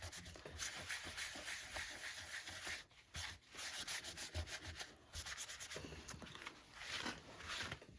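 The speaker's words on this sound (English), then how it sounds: "I'm going to just take my paper towel and I'm just going to rub it right on the gesso that's stenciled." A paper towel rubs across stenciled gesso coated with ink in quick, close, scratchy strokes, soft brushing friction with brief pauses between passes, no voices.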